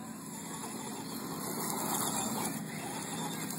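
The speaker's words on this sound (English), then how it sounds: "So, now Peyton is driving this" A car driven nearby outdoors gives a steady, moderate engine hum that rises slightly midway, heard alone without talk and partly masked by constant high-pitched background tones.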